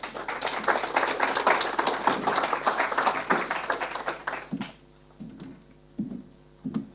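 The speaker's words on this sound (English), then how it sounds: "So a big round of applause for Andy Barnetson," A conference audience applauds the next speaker with dense, steady clapping that fades out after about four and a half seconds, leaving a few scattered bumps and room noise.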